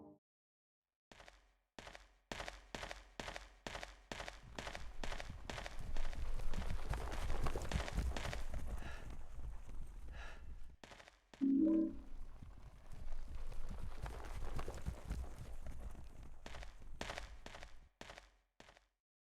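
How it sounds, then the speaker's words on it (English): Horses galloping around a room in the Gallows in Silent Hill 2, with steady rhythmic hoofbeats that swell into a dense rumbling gallop, fade, then surge again before thinning out into separate thuds. "As soon as you enter the Gallows, you hear things moving around, most notably horses galloping around the room."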